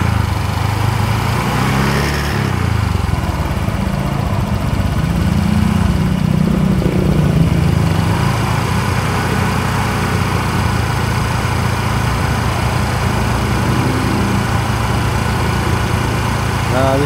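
Honda Vario F1 scooter engine revved hard and held at a steady, buzzing drone close by, with the pitch lifting briefly early on.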